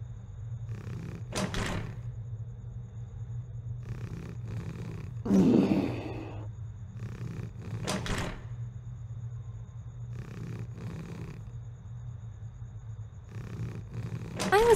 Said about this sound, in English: I was lucky enough to lock the door on the witch. I can hear her still trying to get in on the other side, too.